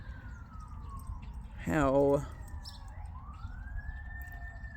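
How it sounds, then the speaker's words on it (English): Several fire truck sirens wail past near a fire station, rising and falling tones with a loud blast in the middle, while a person speaks briefly. "that's a whole lot of sirens"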